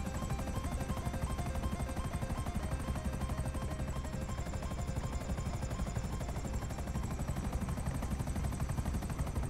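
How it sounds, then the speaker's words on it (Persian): A helicopter in Grand Theft Auto Online drones with a steady, continuous rotor chop and engine roar, loud and unbroken throughout. "چه هلیکوپتر پشت ما"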